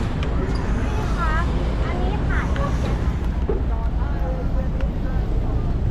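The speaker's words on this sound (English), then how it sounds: "Can you hear that? That's the sound of the floating jetty." Floating ferry jetty on the river between Icon Siam and Asiatique in Bangkok, heard as a steady low rumble of water and wind with creaking squeaks from the moving pontoon, with people talking nearby.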